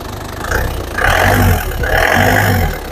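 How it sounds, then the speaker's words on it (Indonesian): Car engine being revved with the radiator cap open to check for a faulty radiator, loud close blips of throttle swelling and falling in three surges over a rumbling idle. "kemudian kita gas untuk mobilnya ini"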